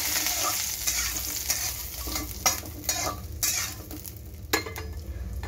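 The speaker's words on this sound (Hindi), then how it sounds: "ऑयल गर्म हो गया, अब हम इसमें सेक लेंगे ये थोड़े मखाने।" Fox nuts (makhana) roast in a little hot oil in a home kitchen pan for sweet and salty namkeen: a steady close sizzle with repeated scraping stirs and occasional sharp clicks of a spoon against the pan, no talking.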